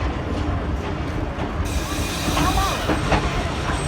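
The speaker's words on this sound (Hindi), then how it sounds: "इस बार हमारा कोच स्टेशन पर पहुँच गया" Millat Express passenger coach rolling into a station, a loud continuous rumble with rattling wheel and coupling clatter throughout, busy and close.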